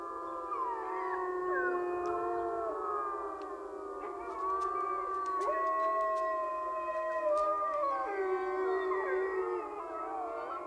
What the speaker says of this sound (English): Howling of the wolves still scares us.